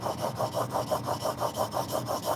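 A heat-treated carving tool edge is rubbed flat on a sharpening surface in a steady rasping rhythm of about a dozen quick back-and-forth strokes, close and alone.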